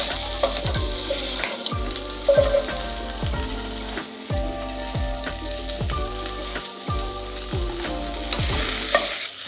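Spinach, fennel and asparagus tipped into a hot pan sizzle and crackle steadily, with repeated stirring scrapes and clatters close by and no voices over the frying.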